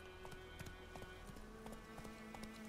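Roach, a horse in the video game The Witcher 3, gallops with a quick, regular clip-clop of hooves, faint and steady over a sustained background tone.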